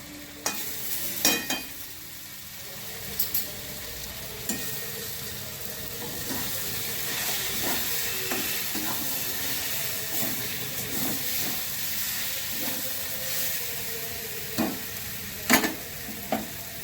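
Cabbage curry with ghee and garam masala cooks in a pan with a constant close sizzle, broken by occasional sharp spoon scrapes and clinks as it is stirred.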